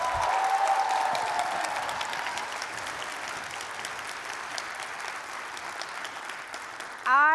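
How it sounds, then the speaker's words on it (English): A large audience at a student conference's opening plenary gives a sustained round of applause, dense and even at first, then gradually thinning and fading before a brief burst of other sound at the very end. "let's give Vanderbilt a big round of applause"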